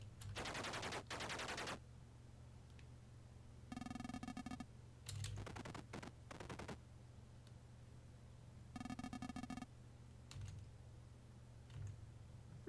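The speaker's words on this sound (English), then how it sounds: "We're just going to go ahead and keep shooting the machine guns at him." Tank machine gun fire, coaxial and bow guns, in the video game Armoured Commander: several short rapid rattling bursts, each lasting about a second, separated by pauses and small clicks over a low steady hum.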